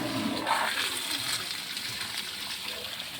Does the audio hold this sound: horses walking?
no